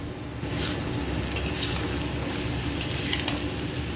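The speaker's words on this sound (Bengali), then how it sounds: "এখন দিয়ে দেবো ডুমো করে কেটে রাখা পটল" Diced pointed gourd and potato fry in a pan, giving a low steady sizzle. Several sharp clinks of a spatula or spoon against the metal pan break through it, and no voices are heard.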